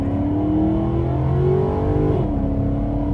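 A Maserati GranTurismo MC engine revs up under light throttle, its tone climbing smoothly and strongly before easing off as the gear changes, loud and close with no voices.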